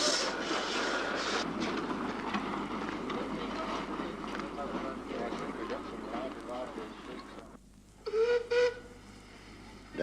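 Talyllyn Railway steam locomotive The Old Lady arriving at Pendre, a brief steam whistle sounding near the end after a stretch of rumbling train noise and crowd background.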